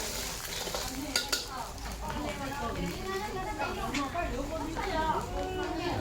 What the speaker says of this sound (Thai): ก็ผัดให้พอสุกๆนะให้ไข่มันยังไม่สุกมาก